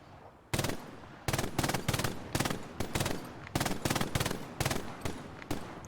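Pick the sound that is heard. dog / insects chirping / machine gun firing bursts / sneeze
machine gun firing bursts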